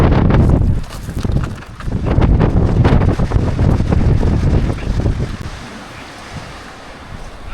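Strong gusting wind buffets the microphone in the Ruahine Ranges, loud and roaring in waves that swell and ease, with a steadier rush trailing off near the end.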